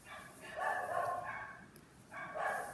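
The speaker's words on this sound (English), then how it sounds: "those dogs are just getting crazy. I'm gonna go see what they're barking about" Dogs bark nearby in two bursts of repeated yapping, the first longer and the second after a short pause, heard at moderate loudness from somewhere in the house.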